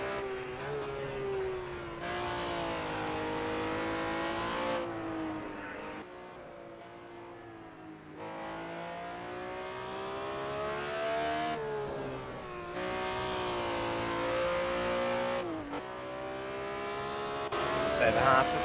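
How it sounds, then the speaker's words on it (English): BMW M1 Procar race car in Project CARS 2 on a hot lap around Sakitto, a loud engine wail climbing and dropping through repeated gear shifts and braking, with commentary talking underneath. "We'll jump on board with one of the drivers for a hot lap around Sakitto."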